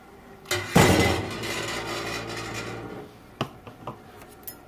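Hot brine poured from a pot into a glass jar of green boiled peanuts, a close splashing gush for about two seconds, trailing into a thinner stream, followed by a few light glass clinks.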